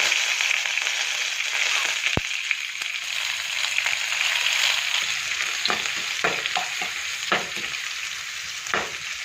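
Shallots, curry leaves and dried red chillies fry in hot oil with mustard seeds for a brinjal yogurt curry. A continuous close sizzle runs throughout, broken by scattered sharp pops and crackles.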